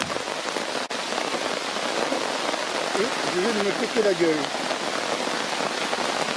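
Steady rain patters at night on a small tarp that is almost a year old, a dense even hiss filling the scene while someone speaks briefly over it.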